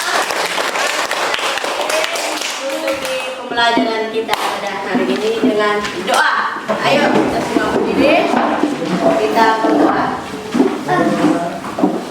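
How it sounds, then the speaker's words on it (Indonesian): A class of schoolchildren claps their hands together at the end of a lesson, rhythmic clapping mixed with young voices singing and chattering loudly over it. "Oke, tepuk tangan untuk kita semua."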